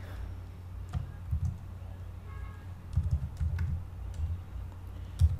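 Computer keyboard typing heard close and fairly quiet, irregular clusters of soft key clicks with short pauses between bursts, ending in a sharper final tap.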